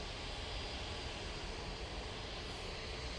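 Jet2 Airbus A321 airliner at Manchester Airport, a steady broadband engine roar holding constant and loud throughout, with no talk.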